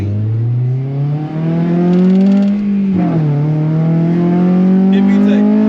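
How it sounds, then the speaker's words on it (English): An 8th-generation Honda Civic Si engine revs hard and climbs into VTEC, its tone rising steadily and loudly, dipping briefly at a shift before pulling up again near the car. "Hit VTEC. Rev it out, rev it out"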